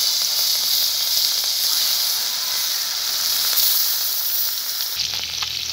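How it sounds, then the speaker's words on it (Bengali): Lata fish sizzling steadily in hot oil, with a dense, continuous crackling hiss that stays loud and close throughout and shifts slightly near the end. "দেখুন আমি মাছটাকে ভেজে নেব।"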